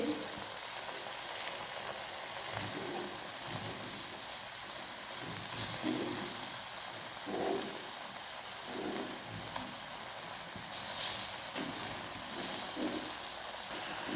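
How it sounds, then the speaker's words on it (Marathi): Banana slices fry in a pan of hot oil, a steady soft sizzle and crackle running throughout at low level, with occasional louder spits and a few light stirring knocks. "या प्रकारे आपल्याला आपले सर्व केळं भाजून घ्यायचं आहे तळून घ्यायचं आहे"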